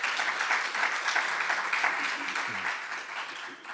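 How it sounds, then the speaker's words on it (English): An audience at a Black History Month talk gives a round of applause, even clapping that fades slightly toward the end, with a brief low murmur near the close. "Let's give them a round of applause."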